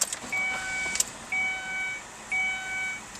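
A car with an electrical fault fails to start, giving three repeated chiming warning tones with clicks and no engine catching, quiet and close.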